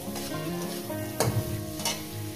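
Ridge gourd stuffed with coconut and cashew filling frying in a pan, with steady close sizzling and a few louder stirring scrapes, under background music.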